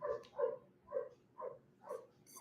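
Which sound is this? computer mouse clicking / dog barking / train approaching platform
dog barking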